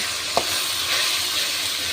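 Ginger-garlic paste fries in a pan with chilli, turmeric, cumin and cinnamon powders, giving a steady, close hissing sizzle broken by one brief stirring tick.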